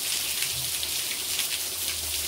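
Steady rain falls in a dense, even hiss close by while a blue-and-yellow macaw bathes in it, alone without talk.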